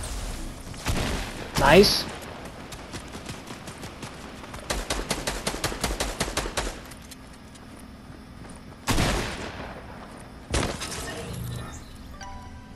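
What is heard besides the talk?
gunfire in the Fortnite video game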